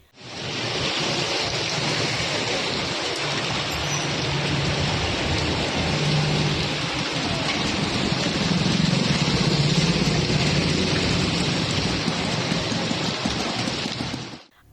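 Heavy rain in Tamil Nadu pours down as a loud, steady, dense hiss that holds unbroken throughout, with no talk over it.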